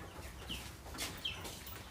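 Faint clucks come from a chicken in a rural village setting, two or three short, soft calls spread across a couple of seconds under low background noise, heard at a slight distance.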